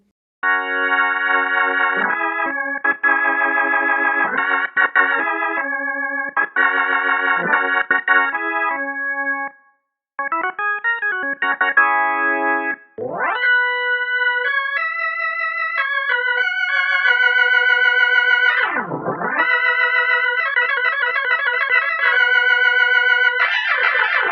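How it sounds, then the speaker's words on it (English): A distorted Hammond organ solo from the Floyd Keys Deluxe plays loud sustained chords and rapid runs, with a gritty buzzing edge, a brief pause midway and a dramatic pitch dive-and-rise near the end. "We also have a third Hammond organ sound, which is distorted for the solo."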